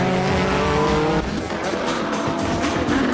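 GT race cars in a JGTC race, Nissan Z and other GT machines, roar past at full throttle with engine notes shifting and tires scrubbing, loud and close.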